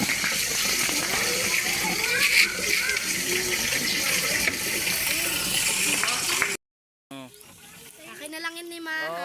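Steady rushing water from a mountain source fills the scene, loud and continuous, then cuts out briefly before a person starts talking over quieter background.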